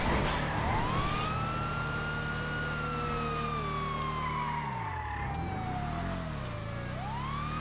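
Wailing police car sirens in GTA V on FiveM rise and fall in long sweeping tones, loud and close, with a low engine rumble beneath and no talking.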